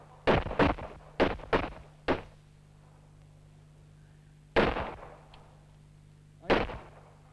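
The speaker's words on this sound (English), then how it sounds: "firing 9mm." A 9mm pistol fires about seven sharp, loud reports: a quick run of five shots, then two more spaced apart with quiet gaps and a low background hum.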